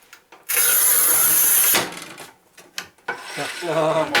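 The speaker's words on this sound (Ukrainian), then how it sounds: "Зараз ми розріжемо плитку." A manual Raimondi P-REX monorail tile cutter on ceramic tile gives a loud, bright scoring scrape lasting over a second, followed by quieter clicks and mechanical rattles and a second scraping pass near the end.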